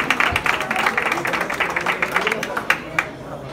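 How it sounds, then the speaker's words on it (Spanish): Applause for boxer Agustín Pérez at a boxing weigh-in, a moderate crowd clapping steadily, then thinning into a few scattered claps. "Fuerte el aplauso, por favor, para Agustín Pérez"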